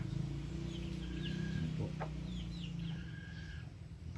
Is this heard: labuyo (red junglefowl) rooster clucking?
yes